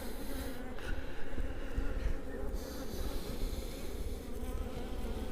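Bees buzz steadily around a styrofoam hive, a dense continuous drone close by with a slight wavering in pitch and no voices.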